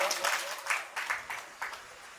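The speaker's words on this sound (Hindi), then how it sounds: "एक बार तालियां गुरुजी के लिए मैं चाहूंगा" Audience applause for the guru at an International Yoga Day gathering, a soft, fairly distant patter of clapping with a few slightly louder swells across two seconds.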